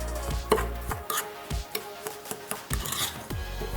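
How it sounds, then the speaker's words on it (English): Foot scrub rubbed over feet in a rhythmic, gritty rasping, a series of short scraping strokes repeating roughly every half second, close and fairly quiet. "Scrub the feet with it for 5 to 7 minutes"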